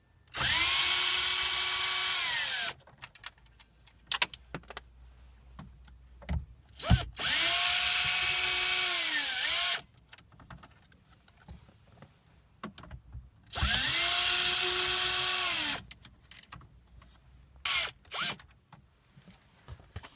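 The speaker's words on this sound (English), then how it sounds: "it's still the same 7mm socket to use for these screws. There are 3 screws on each side, so I'm going to go ahead and remove those." Cordless power driver backing out 7mm screws from the head unit of a 2015 Ford F-150 Sync/Nav 8-inch screen, three loud, steady whirring bursts of about three seconds each, separated by quiet clicks and handling noise.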